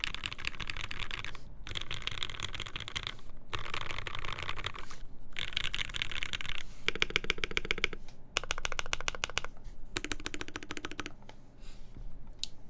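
Keys clatter on a custom-built mechanical keyboard, steady bursts of close crisp clicks with short pauses between runs, the later stretches brighter and more rattly.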